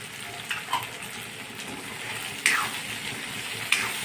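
Masoor dal with green peas sautéing in a pan for a Maharashtrian chakolya dal dhokli, a steady soft sizzle broken by a few sharp scraping clinks of a spoon against the pan, close and without talk.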